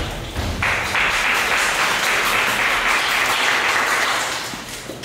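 Steady, dense applause from a forum audience in Korea welcoming a presenter to the stage, rising quickly and holding loud before easing off at the end.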